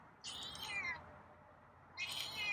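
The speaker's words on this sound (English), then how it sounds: "I thought I heard you meowing" A feral cat named Scruffy meows twice, a drawn-out call followed about a second and a half later by a shorter one, fairly faint and heard from behind a door, with no talking.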